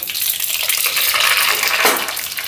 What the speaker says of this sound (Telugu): నూనె కాగిపోయింది ఇప్పుడు మనం ఆవాలు వేసుకుందాం